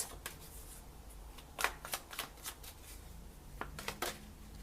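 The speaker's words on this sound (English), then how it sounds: "Okay, you had a card flip over." Tarot cards shuffle softly in a quiet room, a run of brisk riffling flutters and papery slaps with a sharper snap partway through as one card flips out.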